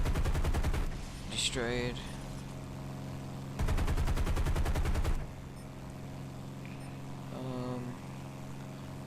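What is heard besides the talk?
P-38 .50 caliber machine guns firing in War Thunder video game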